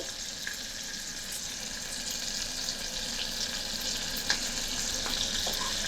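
Garlic sizzling in a pan of melted butter and olive oil, a steady close frying hiss with faint crackles and a few light clicks of a utensil, no voices.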